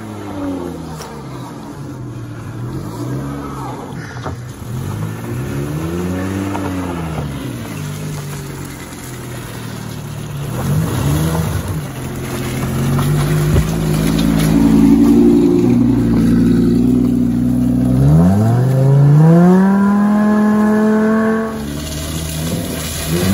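A lifted VW Golf PD diesel drives along, its engine droning loud and close, rising and falling in pitch as it revs and shifts through gears.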